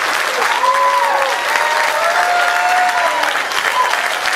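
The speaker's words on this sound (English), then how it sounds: "Those of you who are clapping for what I just said" Steady audience applause at the Cornerstone 2012 festival concert, a dense sustained clapping that holds loud throughout with some crowd noise mixed in.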